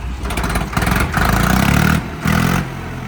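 A modified Ford 3600 tractor engine is cranked and catches, coughing and chugging unevenly in short bursts before settling into a rough idle nearby.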